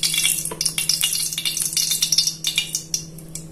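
About three tablespoons of cooking oil poured into a hot pan crackle and spit, a dense run of sharp pops and sizzles over a low steady hum.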